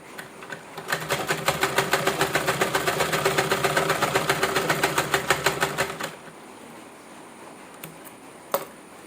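A sewing machine runs a double stitch along scrunchie fabric, a fast steady mechanical rattle that lasts about five seconds and then stops, leaving quiet room tone and a brief click.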